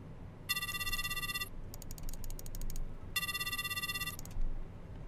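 An unanswered call rings twice inside a horror dating-sim video game, each electronic trill lasting about a second, with a rapid clicking rattle between the rings over a low background hum.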